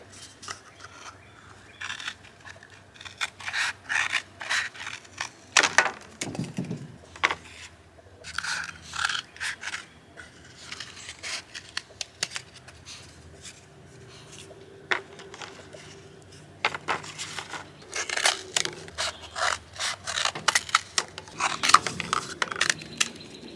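Outdoors, something is cut in half while building a greenhouse and garden; repeated short snipping and scraping bursts come close up and moderately loud, in irregular clusters with brief pauses, no talking.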